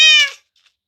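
A single short, bright meow from a tamed cat in the video game Minecraft, loud and close, cutting off quickly into silence with a faint trailing blip.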